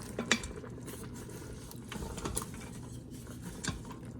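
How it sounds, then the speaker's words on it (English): Green beans being stirred in an Instant Pot, soft scraping and clinks of a utensil against the metal pot with light sizzling underneath, close and fairly quiet. "Add our green beans. Give it a quick stir."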